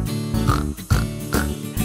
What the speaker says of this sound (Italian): Il maiale fa...